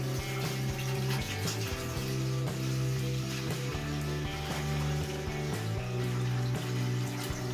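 A gallon of distilled water pours steadily into a big brewing pot, a continuous rushing gurgle with a resonant, ringing tone that holds throughout, loud and close with no talk.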